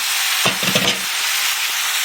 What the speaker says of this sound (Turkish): Bir taraftan kızartıyorum.